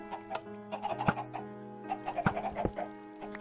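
Chickens clucking in a video game, a busy layered run of short clucks and squawks with several sharp louder calls standing out over a steady tonal game background.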